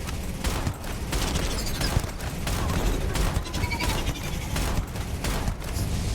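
Creature gun firing in the video game Starfield, a dense stream of rapid, crackling bursts with muffled impacts that continues steadily, loud and close, with no talk over it.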